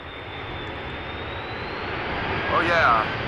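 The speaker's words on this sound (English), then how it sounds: "In the background, the A319 from Lufthansa, now establishing on the glide slope." A Lufthansa Airbus A319 settling onto the glide slope toward landing at Amsterdam Schiphol gives a steady, moderately loud jet whine and rumble that swells slightly near the end, with a voice talking over it.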